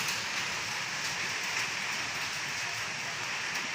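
Dense, steady hiss of a hailstorm, rain with ice stones falling on a road, loud and continuous throughout without a break.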